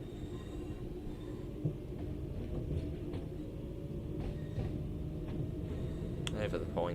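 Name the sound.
Class 323 train running over points, video game Train Sim World 4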